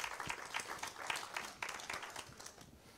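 A church congregation claps during a sermon, a soft, distant patter of many hands that swells and fades over a few seconds.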